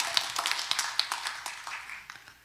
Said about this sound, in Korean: 이 아름다움을 하나님께 그대로 올려드리는 박수 한번 올려드릴까요?